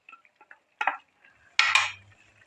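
A spoon scraping through a chicken and vegetable mixture folded into white sauce in a pan, two distinct close scrapes with faint clinks between, quiet and sparse otherwise.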